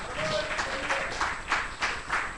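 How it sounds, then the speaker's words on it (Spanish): A church congregation applauds in a brief, muffled burst of rhythmic clapping, rising and falling in waves, with voices faintly mixed in. "Dele fuerte aplauso a Él y a su palabra."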